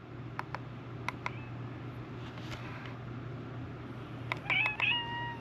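Cat meows from the video game Webfishing, a few faint short mews early on followed by two louder drawn-out meows near the end, over a steady low hum.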